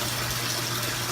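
Water pours steadily into a sump tank fitted with a pump and float switch, part of a backyard rain collection setup, making a close, continuous gushing rush with no talk.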